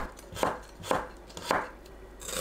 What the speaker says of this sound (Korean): 어슷 썰어주세요